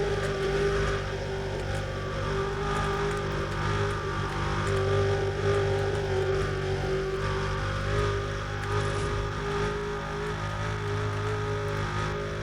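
A car in Need for Speed: Undercover driving on a dirt road during a sprint race, its engine a steady droning hum with gentle rising and falling revs and no pauses.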